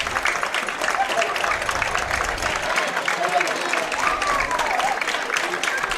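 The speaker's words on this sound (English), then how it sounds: "that's where you hear the clapping right now" Crowd at a high school football game between the Indians and Oneida applauding while a trainer tends an injured player, a steady spatter of clapping from the stands, moderately distant, under a broadcaster's voice.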